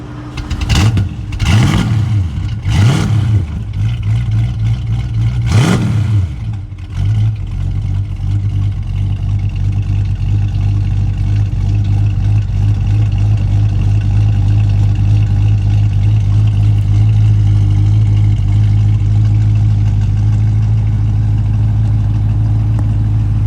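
A 1966 Ford Mustang Fastback engine cranks and catches after a few tries, revs sharply, then settles into a steady, loud, rumbling idle that continues to the end.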